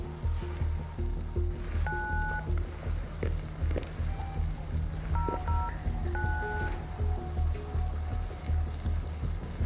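A telephone call is dialed and rings while waiting for pickup at a laboratory, with short beeping tones repeating over steady low background noise throughout.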